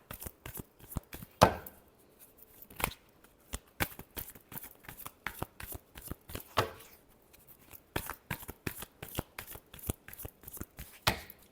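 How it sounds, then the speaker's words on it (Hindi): Tarot cards being shuffled by hand, a near, dry run of rapid riffling and slapping bursts separated by short pauses. "Last shuffle."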